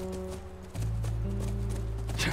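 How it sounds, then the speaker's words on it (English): A horse's hooves clip-clop by a ranch in the video game The Last of Us Part II, a steady run of close hoof strikes over a constant low hum. "That's our horse."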